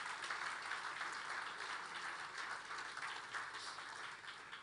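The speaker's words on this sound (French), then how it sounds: "Donc, immense applaudissement pour vous tous ici" A large audience at the Africa-France summit opening ceremony in Nairobi, Kenya, applauds in a dense, steady wash of clapping that lasts throughout and fades slightly at the end.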